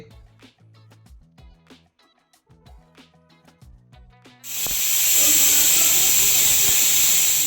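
Pressure cooker on a gas stove cooking soaked white peas with salt, bursting into a loud, steady steam hiss partway through after quieter clinks and taps, the hiss continuing close and strong to the end.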